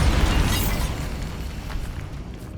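A Bombarda explosion spell goes off in Hogwarts Legacy, a loud broadband boom at onset that rolls into a rumbling decay lasting a couple of seconds, with no talk over it.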